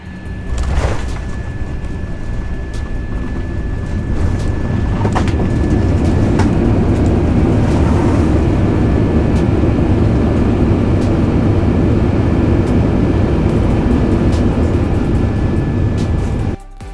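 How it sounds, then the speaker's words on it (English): Steady, loud low rumble of an Alaska Airlines jet cabin during descent to landing, continuous engine and airflow roar throughout with no voices. "This one we'll call a confident landing."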